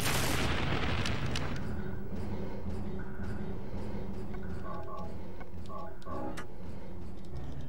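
Rapid gunshots fired at an enemy in the 1999 Silent Hill video game, a dense burst of booming shots at the start followed by quieter sporadic shots and game effects.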